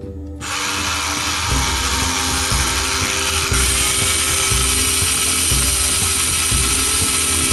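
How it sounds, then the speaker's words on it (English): A power drill bores a bolt hole through thick plastic on a scale RC model of a 1946 Dodge Power Wagon wrecker, a loud continuous whirring grind with a faint ratcheting pulse, close by and alone. "I guess I might as well drill my other holes here."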